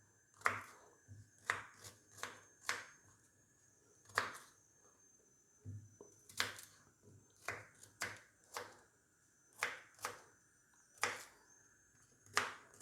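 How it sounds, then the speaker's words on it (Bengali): Knife roughly chopping onion on a board, a dozen or so sharp, distinct thuds in an uneven rhythm with short pauses between, close and fairly quiet in a home kitchen. "এর পেঁয়াজটাকে আমি কেটে নিই আগে"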